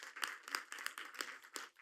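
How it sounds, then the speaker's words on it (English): Audience at a city commission meeting clapping, a faint, brief patter of scattered claps heard from a distance. "We could clap for this one."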